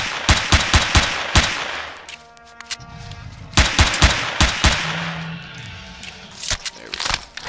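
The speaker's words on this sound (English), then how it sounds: "We already have a mini gun and a cannon drone there." A minigun and a cannon drone fire in the space survival game Empyrion: Galactic Survival, with loud rapid bursts of shots and heavy blasts, pausing briefly before resuming.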